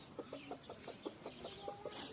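A chicken clucks in a quick, steady series of about ten short notes nearby, with a soft farmyard hum behind it, at an animal enclosure in Üreğil Nation Garden park.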